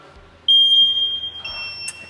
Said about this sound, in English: I don't know why they would even put that little buzzer in that chiller